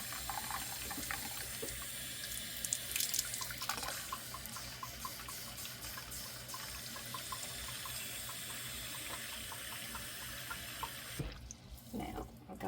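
Water runs steadily from a tap into a container for a long stretch, a continuous splashing flow that cuts off near the end.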